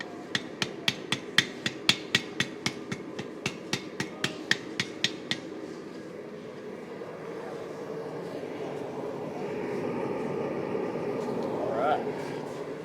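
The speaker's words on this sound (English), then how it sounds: "Really work it onto the tip of the anvil." Hot steel for a spear head is struck by a hammer on the tip of an anvil at an outdoor forging event, a rapid run of about twenty ringing blows in the first six seconds, followed by murmuring voices and ambient noise.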